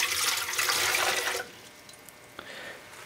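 Lukewarm water poured into a bread machine pan for a light rye loaf, a brief splashing pour that stops partway, followed by quieter dripping.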